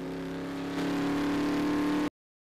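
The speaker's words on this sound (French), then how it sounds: "Cette voiture est nouvelle." A car engine runs steadily and loud up close, its hum stepping slightly higher partway through before cutting off abruptly into silence.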